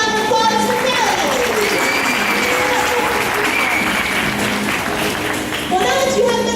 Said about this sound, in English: Another round of applause for Callie.